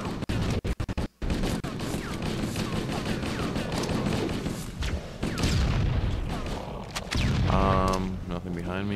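Rocket launcher fire in the video game Halo CE, with a rapid burst of sharp shots at the start followed by booming blasts and chaotic combat noise, heard close and loud, ending in a ringing tonal effect.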